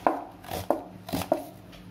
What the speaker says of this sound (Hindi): प्याज को कट कर लेते हैं